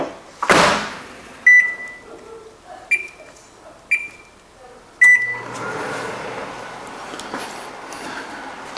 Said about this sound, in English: Heat it up for 30 seconds in the microwave.